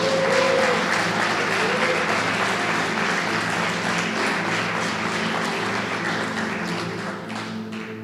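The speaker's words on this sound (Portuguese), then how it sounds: "Aplauda o Senhor." A large church congregation applauds steadily, a dense wash of clapping that holds loud for several seconds before slowly tapering off, with faint voices beneath.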